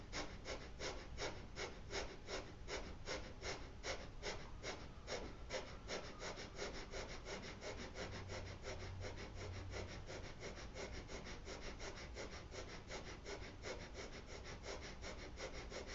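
Loud, rhythmic breathwork breathing with quick, even breaths in a steady repeating pattern, close and alone for the whole stretch, faintly recorded.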